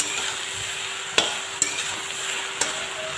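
Taro leaves (kosu) fry in a pan for an Assamese kosu bhaji with fish head, giving a steady soft sizzle with a few sharp clicks from utensil contact against the pan, close and moderately quiet, with no talking.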